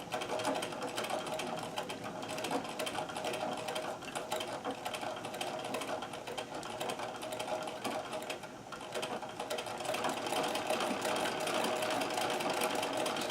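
Singer 237 sewing machine running a zigzag stitch for free motion embroidery: a steady, close, smooth mechanical whir with rapid needle clatter and light bobbin rattle, continuous and unbroken throughout, no talking.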